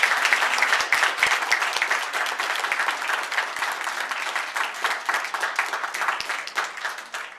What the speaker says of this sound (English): Let's please give an applause for all these wonderful veterans.